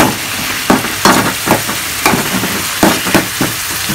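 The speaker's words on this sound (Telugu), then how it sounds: "తర్వాత ఎల్లిపాయలు వేస్తాను, గార్లిక్." Onions and garlic frying in oil in a home kitchen, a close, loud sizzle broken by repeated sharp bursts of scraping and stirring.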